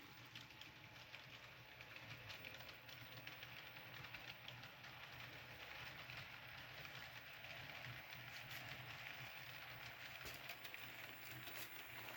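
A model Amtrak train rolls steadily along its track, a continuous rumbling clatter with no pauses, fairly close and without any talking.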